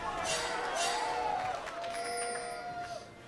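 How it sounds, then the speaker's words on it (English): Spectators cheer at a Spring 2015 NA LCS League of Legends esports match, Counter Logic Gaming vs Cloud9: a steady, roaring wash of crowd noise with whoops throughout, holding loud and then easing slightly. "the crowd cheering for CLG's great vision control"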